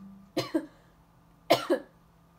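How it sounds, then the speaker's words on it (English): Two short double coughs a second apart, close and fairly loud, over a faint steady hum. "I keep coughing"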